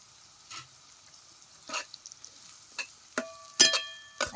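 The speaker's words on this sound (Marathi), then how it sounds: "चटणी बी तेलात चांगली भाजून घ्यायची" Chilli masala frying in oil with onion and tomato for a village-style Bombay duck curry cooked on a clay stove: quiet, sparse sizzles and crackling pops that grow slightly busier toward the end, with no voices.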